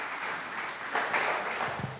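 A church congregation claps in praise, a broad steady wash of applause that swells slightly partway through, with faint voices beneath.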